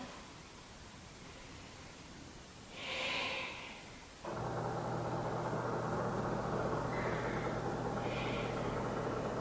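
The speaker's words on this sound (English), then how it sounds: "3 rounds of breath." Slow, deep breathing during a Sivananda-sequence hatha yoga practice, a soft audible breath swelling and fading, followed by a steady, hushed airy rush that carries on to the end.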